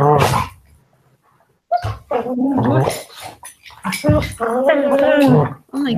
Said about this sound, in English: Oh my goodness. Dogs.